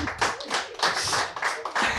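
A small audience at a World Children's Day event in Victoriaville claps in uneven bursts, close and fairly loud, with a few sharp individual hand claps standing out.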